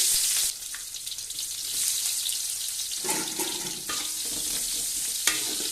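Onions sizzling in hot oil with cardamom, cinnamon, bay leaf and cumin, a bright steady crackle of frying that flares when stirred, with a few clatters of utensils in between.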